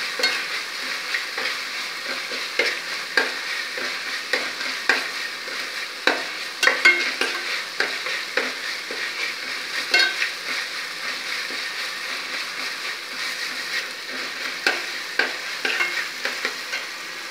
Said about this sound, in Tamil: இதிலே நான் வந்து வெங்காயம் போடுறேன் இப்படி வதங்கட்டும்